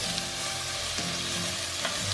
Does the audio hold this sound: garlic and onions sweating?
yes